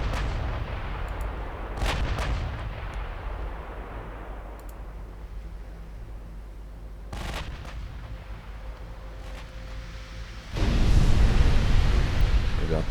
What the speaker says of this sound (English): Five-inch guns doing work.